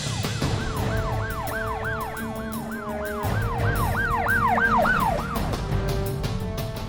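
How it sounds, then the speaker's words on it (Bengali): A police car siren wails in rapid rising-and-falling sweeps, loud and close, over the steady hum of a moving vehicle, with no voices. "ওই সামনে যেটা পুলিশের গাড়ি আইতেছে"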